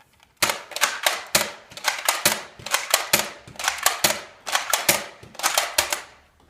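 A Nerf blaster fired in semi-automatic mode: sharp, close mechanical snaps and clacks come in quick clusters of two to four shots, separated by short pauses, with no talking over them.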